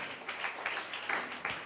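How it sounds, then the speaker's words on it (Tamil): Congregation clapping hands in thanks to God during a Tamil church sermon, a dense, steady patter of many hands with a few louder bursts, moderately close. "நல்ல கைத்தட்டி ஆண்டவருக்கு நன்றி சொல்லுங்களேன் உற்சாகமாக"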